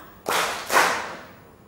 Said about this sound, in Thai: ปรบมือพร้อมกันสองครั้ง